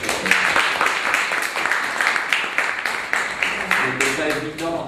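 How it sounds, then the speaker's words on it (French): An audience at a university lecture claps steadily, a busy patter of hands, while voices murmur underneath and grow clearer near the end. "et j'aimerais bien d'ailleurs qu'on l'applaudisse."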